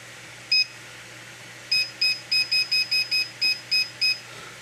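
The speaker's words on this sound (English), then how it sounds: "Now what we're going to do is we're going to go ahead and set our timer here." A kitchen timer beeps as it is set during pressure canning, with steam venting: one short beep, a pause, then a quick, even run of about ten crisp beeps over a steady low hum.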